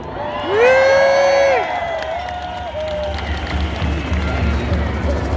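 Rally crowd in Melbourne erupting in loud cheers and whoops, with a sharp shouted cry at first and then a sustained, slightly quieter roar of voices.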